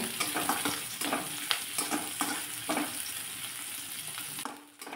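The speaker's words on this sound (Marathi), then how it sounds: "थोडासा लालसर कलर येईपर्यंत कांदा मी परतून घेतलेला आहे" Chopped onion sautéing with garlic in a pan, a steady close sizzle broken by repeated scraping stirs, fading slightly at the end.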